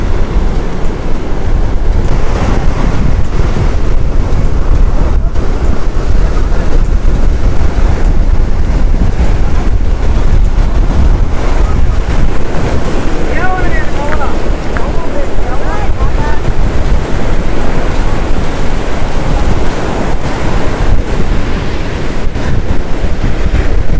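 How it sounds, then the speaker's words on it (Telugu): Big sea waves crash continuously at Rock Beach, a loud, steady roar of surf with heavy wind buffeting the microphone throughout. "అలలు చూడు ఎంత పెద్ద"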